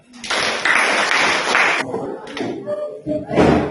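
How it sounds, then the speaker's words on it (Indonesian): A group of students clapping in a classroom: a loud burst of close, dense claps for about a second and a half, then scattered taps and thumps with voices. "Kita tepuk tangan."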